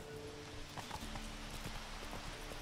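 Horse hooves clip-clop in the Witcher 3 video game, a soft, rhythmic run of distinct hoof strikes sounding somewhat distant and quiet over a low ambient game background.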